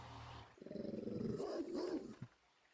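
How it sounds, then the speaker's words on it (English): Dogs outdoors give a short burst of growling, rough barks about half a second in, fairly near but quiet, lasting roughly a second and a half before fading. "I don't know if you can hear them in the background. You hear the dogs are out because I came close."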